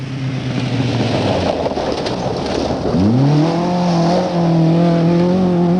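Rally cars thunder through the bush during the 1977 Southern Cross Rally, a steady engine roar that rises sharply as one car accelerates hard, its revving note climbing and holding loud and close.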